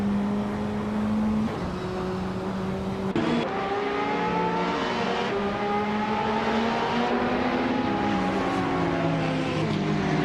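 A 2007 Honda Civic FA race car in a racing game, engine droning loud and steady, with pitch sweeping up through gear changes and a sharp shift break early on, no talk.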